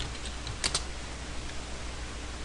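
A few soft clicks of typing on a computer keyboard, faint and close, under a steady hiss of background noise.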